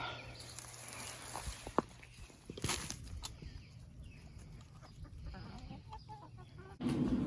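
Chickens cluck softly nearby while being fed turnip greens, amid rustling and light footsteps, with a few sharp knocks and scattered bird noises in a quiet yard.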